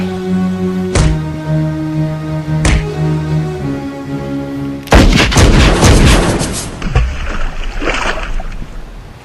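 Gunfire in an action film scene set at Sunshine Beach: two loud single shots, then a heavy sustained burst of rapid shots with ringing tails, loud and close, no talk.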